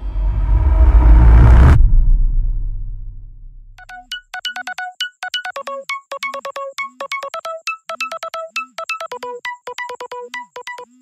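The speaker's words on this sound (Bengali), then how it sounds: "ফোনটা বেজে উঠতেই ঘুম ভেঙে যায় বিভাসের।" A mobile phone ringtone plays loud and close as a rapid, repeating electronic melody of bright tones, coming in after a brief low rumble and continuing steadily to the end.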